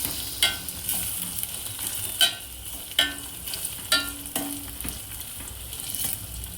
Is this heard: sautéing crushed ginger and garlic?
yes